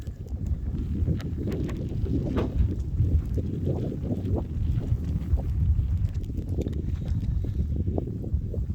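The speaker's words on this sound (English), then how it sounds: "Still really windy" Steady low rumbling wind buffeting a Galaxy S21 phone's microphone outdoors at 5 degrees, continuous and fairly loud throughout, with no voices.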